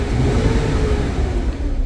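The engine of a Nissan Pathfinder with a P0011 camshaft timing fault revs loudly and close up, a steady droning roar that holds throughout without a break.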